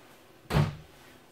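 A removable pantry drawer in a Forest River Silverback 33IK fifth-wheel trailer shuts once with a single close, solid thud over quiet room tone.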